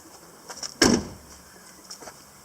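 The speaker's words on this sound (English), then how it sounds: "Then you can close the door." A Jeep door swings shut with a single solid thud, close and loud, followed by a short rattle and faint clicks, with no one speaking.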